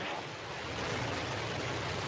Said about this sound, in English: We have ignition of our BE-3 engine